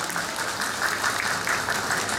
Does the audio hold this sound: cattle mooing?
no